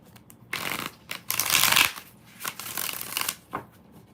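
Repeated riffle-shuffling of a tarot card deck, several crisp papery bursts in quick succession, close and fairly loud, with no voices.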